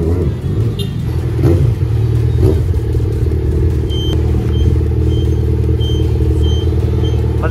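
A Yamaha XJ6 motorcycle in need of lubrication idles loudly and close by, a steady low engine drone with a few faint clatters and slight revs, and no speech.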